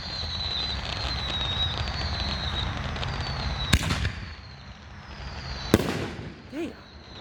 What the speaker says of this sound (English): we got Death Shells by Dynomite Fireworks